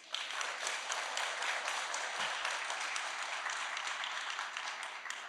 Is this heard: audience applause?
yes